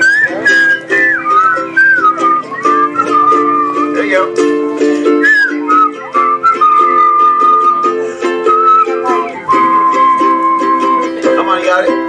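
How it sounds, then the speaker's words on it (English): A gathering at a memorial whistles a familiar tune together, the many whistled melody lines carrying steadily over a sustained background, with a voice speaking briefly partway through. "Y'all ready to whistle?"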